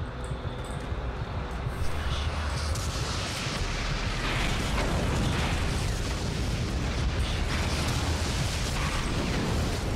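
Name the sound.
plasma rifle firing in the video game Doom 3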